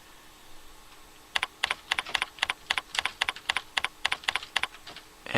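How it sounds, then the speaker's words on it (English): Typing on a computer keyboard, about twenty crisp close-up key clicks in an uneven quick rhythm after a quiet start, with no talking. "and type in my text."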